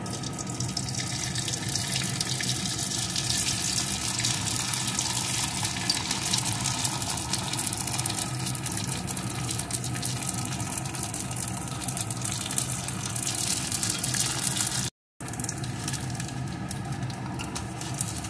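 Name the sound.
papad frying in hot white oil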